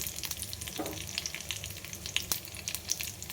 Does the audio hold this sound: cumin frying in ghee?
yes